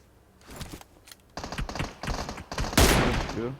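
Gunfire in PUBG Mobile erupts in rapid, close bursts of shots that grow louder toward the end, with quick sharp cracks and brief gaps between volleys.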